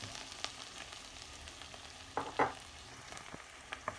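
Garlic and onions frying in oil in a pan for udon, a faint steady sizzle with a few brief scraping stirs, close and quiet.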